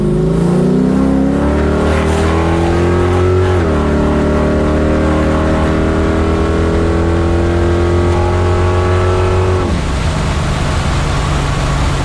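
A loud, deep 454 big-block V8 in a 1969 Camaro with headers roars and revs, pitch climbing through gear changes as the car accelerates nearby with a harsh, throaty exhaust.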